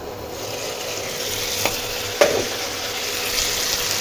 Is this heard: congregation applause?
no